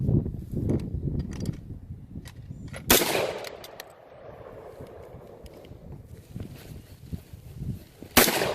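Two sharp .308 Winchester rifle shots firing cast bullets over old powder crack out several seconds apart outdoors, each a loud burst trailing into echo, with scattered handling noises and wind between them.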